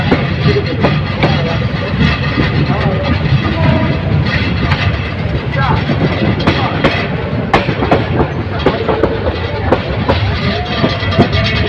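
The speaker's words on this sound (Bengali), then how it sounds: "চা বাগানের ভিতর দিয়ে ট্রেন চলতে চলবে" Parabat Express train running through tea gardens on the Dhaka to Sylhet line, a steady loud rumble and clatter of wheels and carriages throughout, with faint voices underneath.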